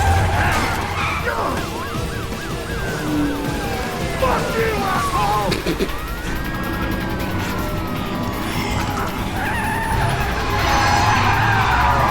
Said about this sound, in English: Faz o drift.